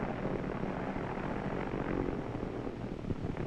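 Aircraft engines roar continuously as planes come in to land on an aircraft carrier deck, a loud, steady mechanical drone that fills the scene with no voices.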